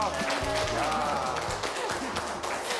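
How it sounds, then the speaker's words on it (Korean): Studio audience at a Korean TV health show cheering and applauding, a dense wash of clapping and voices at moderate volume throughout, with talking mixed in. "환호와 이 박수 소리가 장난이 아니네"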